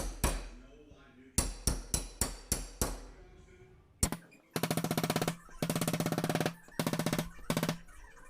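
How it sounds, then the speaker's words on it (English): A hammer strikes a body spoon laid flat against a dented car door panel. A run of separate sharp metallic knocks is followed by fast, dense bursts of hammering up close. "lay my spoon on it and hammer that down"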